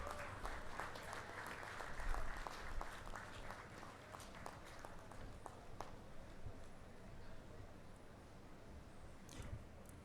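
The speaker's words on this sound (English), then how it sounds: "they all deserve a big round of applause," A large convocation audience applauds engineering students receiving degrees, a long, steady wash of clapping from a big hall that stays fairly distant and even throughout, with a few sharper claps standing out.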